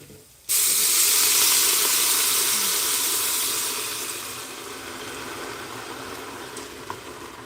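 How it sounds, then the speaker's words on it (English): Water and chicken bouillon hit a hot pan of rice, bursting into a loud sudden sizzle and hiss that slowly eases to a steady simmering bubble. "now we're gonna add the liquid to this. So we're gonna add the water and chicken bouillon here."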